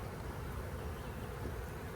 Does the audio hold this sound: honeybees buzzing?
yes